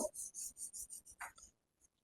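Felt eraser rubbing writing off a board during a maths lesson, a rapid train of about eight short rasping strokes in quick rhythm, close and clear, then trailing into near silence.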